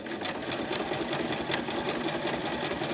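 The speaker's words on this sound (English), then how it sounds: "So let's continue stitching with the zigzag so you can see what that looks like." Sewing machine fitted with an overcast foot stitching a zigzag, a steady, fast mechanical whir with regular ticking from the needle, close and continuous without a break.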